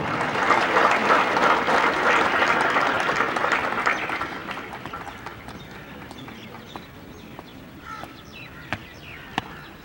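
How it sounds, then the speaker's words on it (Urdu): Crowd applause at a police passing-out parade at a police training centre in Swat, loud and dense at first, then thinning out to scattered claps and a few sharp isolated sounds. "بھرپور تالیاں ہونی چاہیے"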